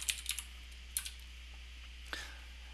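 Computer keyboard typing a short command on a test chassis console, a few light close keystroke clicks spaced over a quiet background hum.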